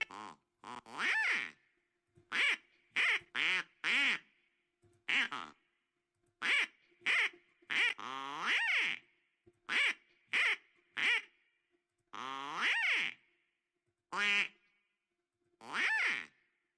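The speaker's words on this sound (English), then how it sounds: "we'll do 13 quacks now" A duck quacks repeatedly, about thirteen separate loud nasal quacks spaced irregularly, some single and some in quick pairs, with silence between them.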